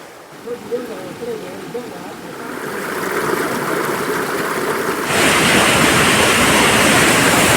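Rushing water builds from a soft hiss into a loud, steady roar of a waterfall, with a few faint voices early on.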